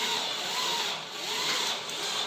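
A drill bores a clearance hole through aluminum for a V25 suspension part, cutting large chips, producing a steady, close, gritty grinding whine with slight swells in intensity and no talk.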